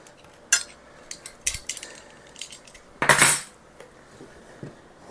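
A spoon scrapes and clinks against a baking dish of cinnamon buns, a few sharp metallic taps followed by one louder, longer scrape, close and alone in a quiet kitchen.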